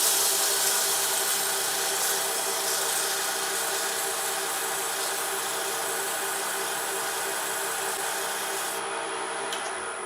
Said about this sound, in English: since this is going to be the final sanding on this surface, I'm going to go ahead and go to 320.